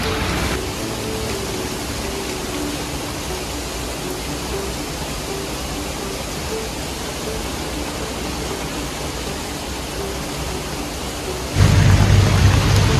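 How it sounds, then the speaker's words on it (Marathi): Heavy rain pours down in a dense, continuous hiss, loud and unbroken, with a deeper rumbling roar rising near the end. "बघू शकतो तुम्ही किती पाऊस पडतो इकडं"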